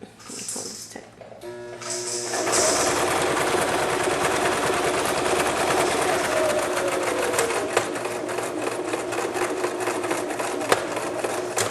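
Domestic sewing machine running a fast, steady stitch close to the edge of folded cloth for training pants, a loud continuous mechanical whirring and clatter that starts after a brief quiet opening and carries on alone.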